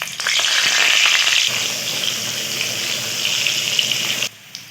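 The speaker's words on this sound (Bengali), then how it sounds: "আলুগুলো আমার লাল করে ভাজা হয়ে গেছে" Salt-and-turmeric boiled potatoes browning in hot oil, a loud continuous sizzle with crackling that fades slightly, then drops off sharply near the end.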